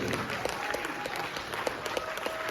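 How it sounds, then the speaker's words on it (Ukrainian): An audience applauds after a dance performance, with steady clapping and some voices mixed in across the short stretch. "Оплески Галина Кувенкевич."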